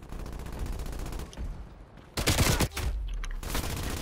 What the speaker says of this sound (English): Somebody's also using a PPSH.